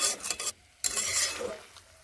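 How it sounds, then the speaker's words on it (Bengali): Spinach and mung lentil mixture sautéed in a pan, heard as short bursts of scraping spoon strokes and sizzling broken by a brief pause. "এগুলোকে কষিয়ে নেব এইভাবে এখন কিছুক্ষণ কষিয়ে নেব"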